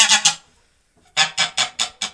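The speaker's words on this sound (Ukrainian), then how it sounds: "І гусочка сидить." Geese on a family farmstead, honking in two quick calls and then a run of five loud, evenly spaced honks, close by with no talk.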